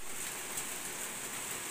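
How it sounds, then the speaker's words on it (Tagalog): Rain falls around a house under renovation as a steady, even hiss of drops, with no talking. "Umulan na naman. Natuloy din po yung pag-ulan."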